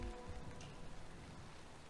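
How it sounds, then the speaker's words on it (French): Rain falls steadily in the survival game Valheim, a soft, even patter of drops on surfaces, faint and constant throughout with no talking. "Ah, il pleut à nouveau."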